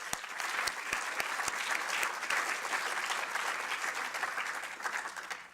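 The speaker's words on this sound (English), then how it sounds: "please give them a round of applause" An audience at the Inspiring Yale 2017 event applauds with dense, even clapping that holds steady for several seconds and tapers at the end.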